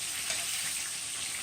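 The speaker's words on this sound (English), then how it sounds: "Let's stir those around and go back again and cooking." Spices with about half a teaspoon of nutmeg frying in a pan, a steady close sizzle with faint stirring, continuous and even throughout, no talking.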